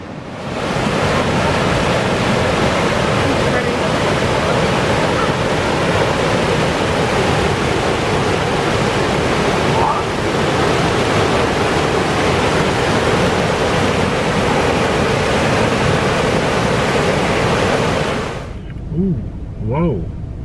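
Powerful waterfall at Fall Creek Falls, a dense, loud, unbroken roar of rushing water that cuts off abruptly near the end, leaving faint ambient sounds.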